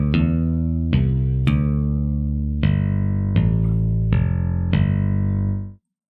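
Picked electric bass from a sampled library plays a simple line of about seven distinct plucked notes, each attack sharp and sustained, loud and clean with no voices.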